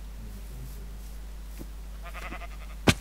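A short, faint sheep bleat or two amid quiet Minecraft ambience, followed by a sudden sharp click near the end.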